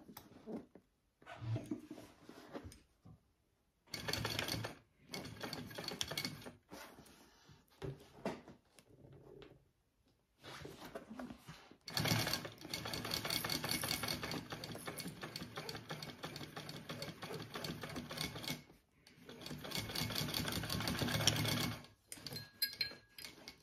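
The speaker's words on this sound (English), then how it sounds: "And I'm going to sew that together at a bigger seam allowance." A sewing machine stitches a hobo bag seam in several bursts of steady mechanical whirring, separated by short silences, with a long continuous run in the middle, quiet and close with no talking.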